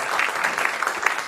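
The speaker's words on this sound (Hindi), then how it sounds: "थोड़ी सी ज्यादा तालियां मेरे लिए" An audience at a stage comedy show gives a short burst of applause, a dense wash of many hands clapping at moderate volume for about a second and a half, with a faint voice mixed in.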